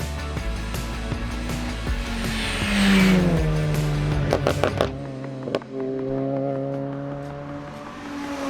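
BTCC 2024 touring race car lapping a track, a loud engine rising and falling through gear changes with a downshift and tire scrub, then revving away.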